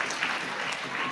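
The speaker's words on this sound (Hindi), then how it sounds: "जोरदार तालियां हो जाए इस बच्ची के लिए" Brief burst of steady clapping from a school audience at a poetry recitation contest, continuous and moderately loud throughout.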